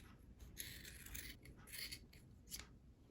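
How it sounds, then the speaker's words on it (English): Scissors snip a small circle out of a sweater in several short, quiet bursts of cutting, close up and faint. "I'm gonna cut a little circle."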